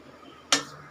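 A single sharp clink of dishware as roasted coconut is tipped into a bowl, one short bright knock that rings briefly and then fades against a quiet background.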